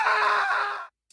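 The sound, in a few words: scream of horror in the video game Silent Hill 4: The Room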